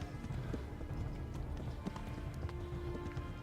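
Rapid hoofbeats of a galloping horse in Kingdom Come: Deliverance, a steady, fairly soft drumming rhythm with no talk over it.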